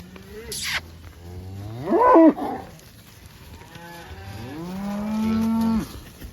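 A mob of cattle grazing a pond dam, with several loud, drawn-out moos from nearby cows, one after another, over a faint outdoor background.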